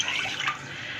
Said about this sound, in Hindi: इसके लिए हमें चाहिए आधा ग्लास पानी